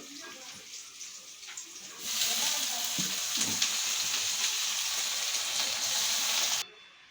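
Leafy greens dropped into a pan of frying chicken set off a sudden loud, steady sizzle and crackle that runs for several seconds, then cuts off sharply, likely as a lid goes on.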